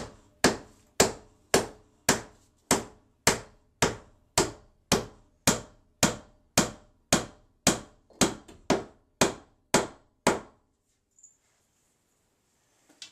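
Steady, evenly spaced hammer blows drive galvanized roofing nails during a bathroom remodel, about eighteen loud close strikes each ringing briefly, stopping abruptly near the end with no talk.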